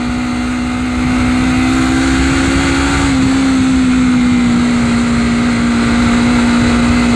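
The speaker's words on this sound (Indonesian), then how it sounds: "Suara dari knalpot ini bener-bener senyap." A Honda CBR250RR fitted with a 3Tech Evox X5 silent black exhaust revs steadily for the whole stretch, a smooth, fairly loud, close engine note that climbs slightly and holds with no talking.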